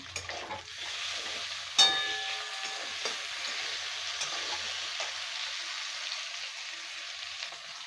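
Onion, potato and tomato fry in a pan with a soft, steady sizzle, broken by a clink of a utensil and faint stirring scrapes.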